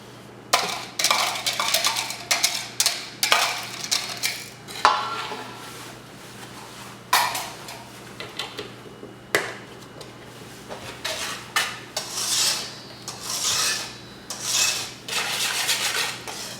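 A spatula scrapes and taps around a bowl of heavy cream for a custard, giving repeated rubbing strokes and light clinks in an irregular rhythm, close and clear with no voices.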